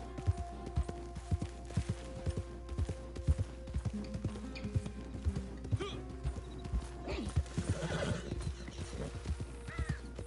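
A horse in the game Red Dead Redemption 2 clops along in steady, quiet hoofbeats, then lets out a whinny near the end over a low ambient drone.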